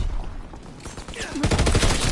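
A quick burst of rapid gunfire in Call of Duty: WWII crackles, dense and loud, following a short stretch of muffled background noise.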